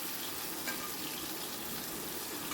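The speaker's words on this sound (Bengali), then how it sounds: "তেলটা যখন বেশ গরম হয়ে গেছে, এবার আমি মশলা মাখানো ভিন্ডিটার ভেতর দিয়ে দিচ্ছি।" Spiced okra sizzles and fries in hot mustard oil, giving a steady, fairly faint hiss with no talking.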